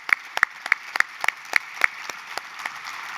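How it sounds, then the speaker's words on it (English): Audience applause at the 2024 Henrico State of the County event, with several distinct sharp claps standing out in a regular rhythm over a softer bed of crowd clapping that thins toward the end. "Let's give our police force a round of applause."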